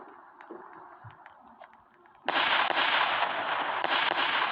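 A Roblox game bomb explosion bursts in abruptly after a quieter stretch of game sound, followed by a loud, sustained crackling roar that carries through to the end.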